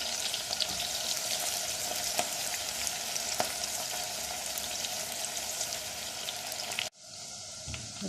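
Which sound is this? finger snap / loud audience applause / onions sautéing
onions sautéing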